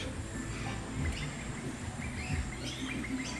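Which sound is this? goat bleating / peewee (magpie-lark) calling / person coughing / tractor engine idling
peewee (magpie-lark) calling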